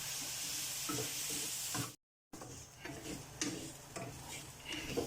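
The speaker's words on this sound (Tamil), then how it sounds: "கடலைப்பருப்பையும் நல்லா சேர்த்து ஒரு 2 நிமிஷம் வதக்கிக்கிங்க." Chana dal and raisins sautéing in a pan give a faint, steady sizzle with light ticking stirs, cut by a short silent gap, quiet and close.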